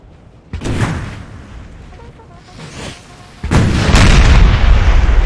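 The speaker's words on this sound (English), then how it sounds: "This artillery piece is going to try and get a decent shot into the flank of the cav." Artillery cannons in Napoleon Total War, firing canister shot at the Battle of Friedland, 1807, thump out several loud booms, with a heavier blast and a sustained rumble toward the end.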